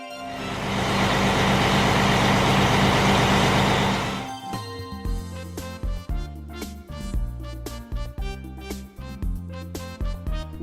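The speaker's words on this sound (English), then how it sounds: "white Pickup truck." A white pickup truck's engine produces a dense, loud roar for about four seconds, then stops abruptly and cheerful melodic music follows, with no voices.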